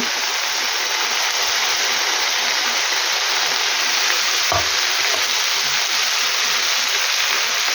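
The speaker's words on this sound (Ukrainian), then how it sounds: "І тепер картопелька трішки знизу бачите, осмажилася. Тепер додаю сюди морку." Julienned carrot strips dropped into potatoes already frying in a pan for a quick casserole, giving a steady, close sizzle of hot oil throughout with a brief soft clatter as the carrots go in midway; no one speaks.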